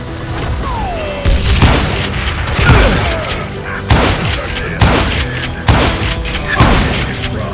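Gunfire in the video game Call of Juarez: Gunslinger: loud, close booming shots fire at a steady pace about once a second, with a busy rumble of battle and a faint voice or two in the background.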